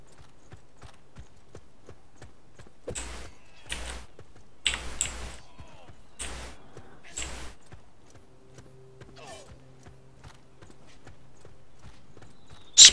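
Horse hooves clip-clopping in the medieval combat video game War of the Roses, a burst of sharp, close hoof thuds in uneven rhythm, then fading into quieter game ambience and faint clicks.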